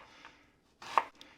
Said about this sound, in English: I'm chopping up half of an onion.